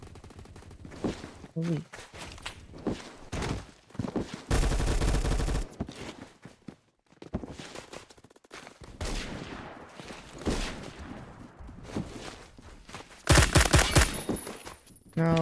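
Suppressed VSS Vintorez rifle fire in Roblox Phantom Forces, with bursts of shots at a few points across the stretch and a loud sustained volley near the end. Someone talks between the bursts.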